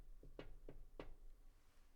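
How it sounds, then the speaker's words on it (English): Four light knuckle taps on a wooden door as a Foley effect, quick and uneven, fairly soft and close with no voices. "Half an hour later, there was a tap at my door."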